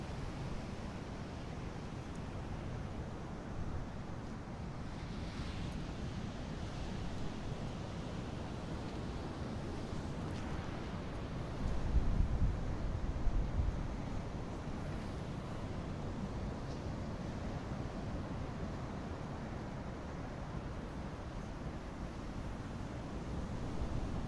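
Ocean waves wash onto a shore in a steady, broad rush of surf noise, soft and distant, with one slightly louder swell midway and no voices over it.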